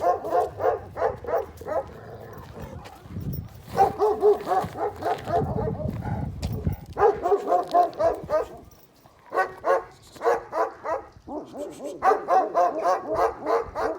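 A dog barks in repeated bursts of several sharp barks, loud and close, with brief pauses and some low rumbling noise between the volleys.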